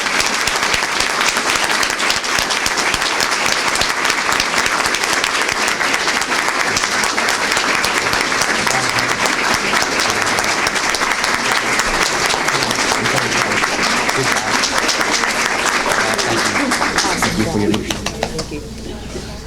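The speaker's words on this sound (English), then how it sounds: "Let's give everybody ourselves one more round of applause." Sustained, loud applause from a crowd at a press conference, with cheers and voices mixed in, continuing steadily before tapering off near the end.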